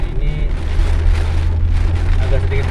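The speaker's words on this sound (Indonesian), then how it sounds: "hujannya cukup deras nih ya" Heavy rain pours steadily on a busy city road in Bogor, a dense continuous hiss over a low traffic rumble, with a voice talking faintly beneath.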